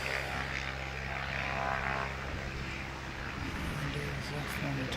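A propeller aircraft engine drones continuously at an airfield as a plane taxis in strong winds, a steady loud hum with wind rumble, and a voice talks over it.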